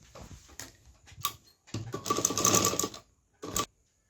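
A sewing machine stitching the shoulder seam of a small girl's blouse, running in short bursts of whirring stitches separated by pauses, the longest run lasting about a second.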